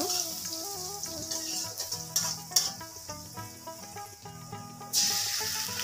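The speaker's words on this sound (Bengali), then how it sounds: "এবার এই তেলের মধ্যে আমি দিয়ে দিলাম একটা পেঁয়াজ কুচি। পেঁয়াজটাকে হালকা বাদামি করে ভেজে নেব।" Chopped onion sizzles in hot oil with a steady, bright hiss that runs through the whole stretch, partly under music that plays along with it.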